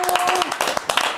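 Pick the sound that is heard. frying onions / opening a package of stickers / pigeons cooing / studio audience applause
studio audience applause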